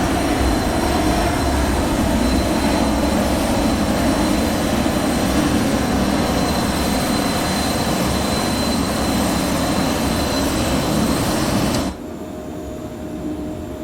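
Cessna Citation Mustang twin jets at climb power just after takeoff, a loud steady broadband roar with a whining tone inside the cabin, dropping abruptly in level near the end.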